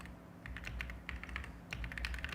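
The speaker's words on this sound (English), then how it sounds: "the sort of sound of the typing" Rapid typing on a computer keyboard, a dense run of close, crisp key clicks in uneven bursts with a short pause around the middle, heard alone without voices.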